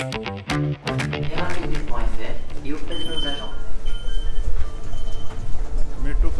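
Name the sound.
train at Gare du Nord station in Paris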